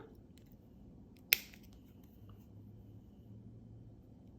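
A single sharp snip of cutters through jewelry wire, one crisp click standing alone against a quiet background.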